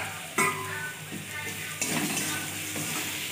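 Spices being stirred into mutton ghugni in a hot pan with turmeric powder and salt, a steady sizzle with scraping stirs and a few utensil clinks against the pan, close and fairly loud.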